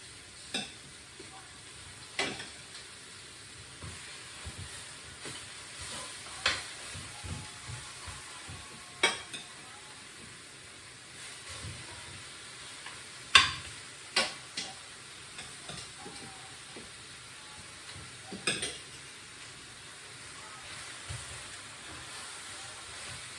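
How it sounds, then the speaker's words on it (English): Goat meat dry-roasts in a pot with onion, ginger, garlic and spices under a faint, steady sizzle. A spoon scrapes the pot at irregular moments, sharp but quiet, and nobody speaks. "So almost dry roasting the meat in the onion, ginger and garlic coated in the spices already."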